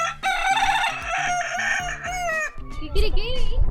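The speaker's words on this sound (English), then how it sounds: "that sound in Spanish is kikiriki, but in English, as we know, it's cock-a-doodle-doo." A rooster crows loudly nearby at the Faunia zoo in Madrid, a long rising and falling call, with a layered, busy background of other sounds.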